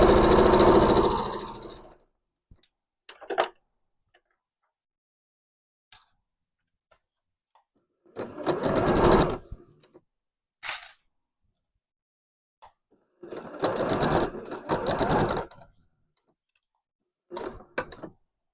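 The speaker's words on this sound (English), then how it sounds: "Okay, now let's sew them together." A sewing machine stitching blouse seams with a 1 cm allowance, running in several short bursts of a few seconds each, separated by quiet gaps with faint clicks, close and fairly loud.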